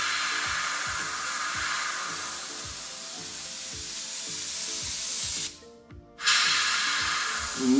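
Airbrush spraying a light coat of pearl paint onto a red fish taxidermy mount, a steady close hiss with a faint rhythmic pulsing underneath, briefly stopping before resuming, with no talking.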